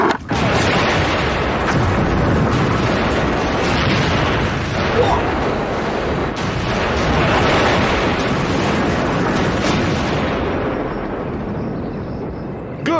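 A huge blast used to plough a field rolls out as a sustained, loud roaring boom with rumbling debris, lasting many seconds and slowly fading.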